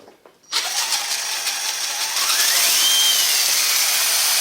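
An RC car transmission whines steadily and loudly close by, the pitch rising partway through as it speeds up, with no talking over it.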